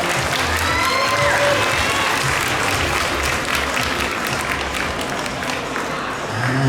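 Sustained, dense audience applause at a gala premiere of the Thai film Flat Girl, steady and close for the whole stretch, with crowd noise mixed in and no clear speech.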